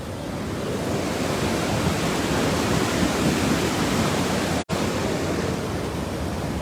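Flood water on the Swat River rushes over an old bridge in a loud, continuous roar that stays steady throughout, with no voices heard.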